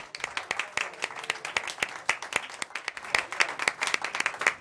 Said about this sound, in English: Let's give a round of applause for Phyllis again.